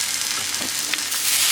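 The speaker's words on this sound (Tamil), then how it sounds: "ஃப்ரை பண்ணி நல்லா காஞ்சவரை சிம்மில் வச்சுருங்க." Masala for a cowpea kuzhambu fries in a pan with a constant close hiss and crackle, plus faint stirring scrapes and no talking.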